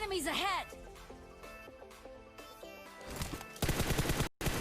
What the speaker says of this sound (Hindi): सीधा मैं गोलियां चला देता हूँ